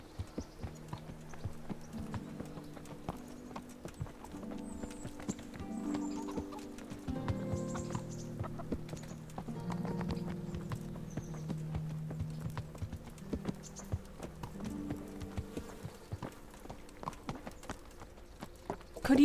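Horse hooves clip-clop in a steady walking rhythm while riding in the medieval game Kingdom Come: Deliverance, a continuous close clatter of hoofbeats lasting nearly twenty seconds with faint background music and ambience.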